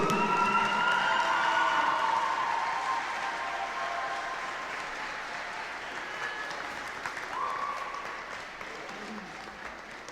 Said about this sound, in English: Ladies and gentlemen, final round of applause for the KS Cossacks